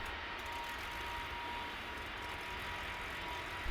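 Steady, loud roar of Airbus A330 (A332) heavy airliner engines on the runway in Tower Simulator 3 at Saint Martin airport, a continuous broadband rumble holding at constant level throughout with no voices.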